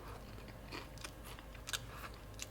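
Crunchy chewing of Trader Joe's crunchy cookie butter spread, close and quiet, with irregular bites and crackles over a steady low background hum.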